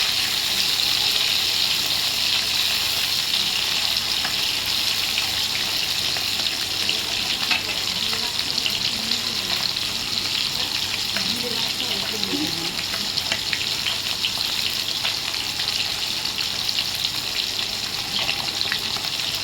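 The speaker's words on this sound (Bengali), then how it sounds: "কই মাছ তেলে ছাড়লে রেখে যায়, এই জন্য একটু নাড়াচাড়া করে দিচ্ছি" Koi fish fry in hot oil with a dense, even sizzle throughout, soft scraping as the pieces are stirred, the crackle steady and close.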